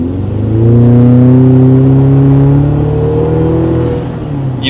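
Toyota Tacoma pickup fitted with a COBB Accessport accelerates from about 20 mph, a steady engine drone climbing in pitch through the gear, heard from inside the cab with no talk.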